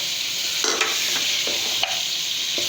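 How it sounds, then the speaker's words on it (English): Boiled mutton meat and bones roasting in a hot pan give a steady, loud sizzle, broken by a few sharp knocks of a spoon or spatula stirring against the pan. "So now I'm adding this boiled meat and bones that we separated from the stock. Now we will roast it."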